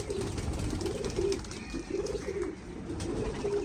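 Flying pigeons kept for racing coo in a repeated rolling pattern, several low throaty phrases close by over steady background noise.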